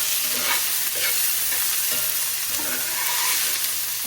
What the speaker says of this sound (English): I've got my cast iron skillet nice and hot. We're gonna go ahead and saute these up.